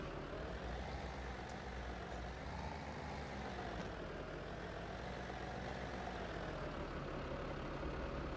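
A tractor engine in Farming Simulator 17 runs with a steady, loud, broadband rumble that holds constant throughout, with a few faint clicks near the start and no talking.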